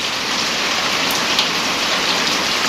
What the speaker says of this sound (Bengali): অনেকদিন পর বৃষ্টি নামতেছে